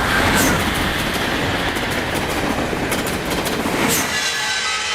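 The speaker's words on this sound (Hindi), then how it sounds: "विशाखापट्टनम से शिरडी जाने वाली ट्रेन अभी थोड़ी देर में रवाना होने वाली है" A passenger train rolls through Kamareddy railway station, its cars rumbling loudly and continuously at close range, with clattering wheels and a few sharp metallic clicks over the steady roar.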